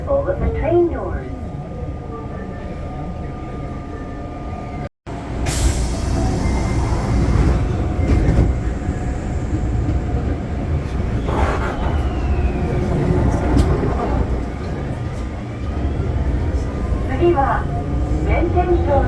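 An Osaka Metro Chuo Line subway train runs between stations, a loud continuous rumble and rail roar with brief squeals, a momentary break near the start, and automated announcements heard over it.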